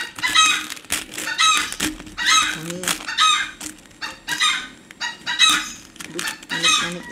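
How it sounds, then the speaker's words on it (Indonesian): A pet chicken clucks and squawks in a run of loud, close bursts, with a crowing-like drawn-out call near the middle and agitated cackles continuing to the end. "Ayam aku, kenapa ayam aku berbunyi?"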